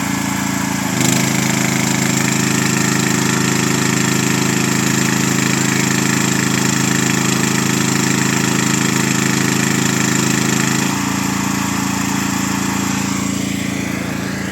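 A generator engine drones steadily outdoors in a quiet resort town street, a loud continuous hum that shifts slightly in tone partway through and runs on without pause.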